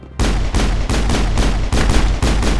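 Rapid gunfire from the video game Mass Effect, loud and close, firing in a series of dense bursts with brief gaps between them, with no talking.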